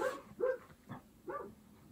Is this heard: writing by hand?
no